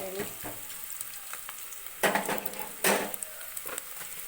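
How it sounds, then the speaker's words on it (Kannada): Whole spices such as kasuri methi, cinnamon and cloves fry in hot oil, giving a steady soft sizzle with a few louder stirring scrapes and clinks around the pan. "ಇವಾಗ ಕಸ್ತೂರಿ ಮೆಂತೆ, ಚಕ್ಕೆ, ಲವಂಗ ಎಲ್ಲ ಕೂಡ ಹಾಕೋತಾ ಇದ್ದೀನಿ. ನಾನು ಸ್ವಲ್ಪ ಫ್ರೈ ಮಾಡ್ಕೊತಾ ಇದ್ದೀನಿ"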